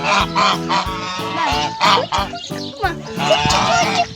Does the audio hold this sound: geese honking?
yes